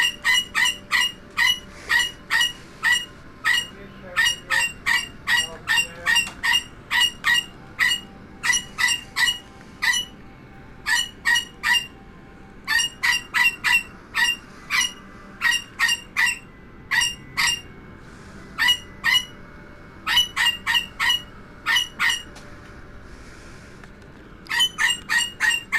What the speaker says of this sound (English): Wait for the bird to finish.